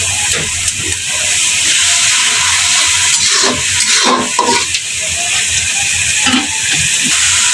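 Spice paste and dried fish sizzle and fry in a pan, a steady loud hiss broken by scraping stirs, with no voices.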